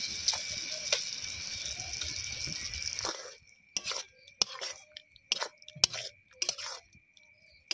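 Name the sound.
boiled eggs added one by one to frying masala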